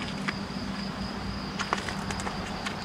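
Flies buzz around a converted camper van, a steady high drone with a few faint flicks and taps mixed in, at a moderate level.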